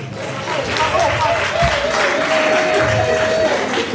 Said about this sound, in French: On acclame, s'il vous plaît.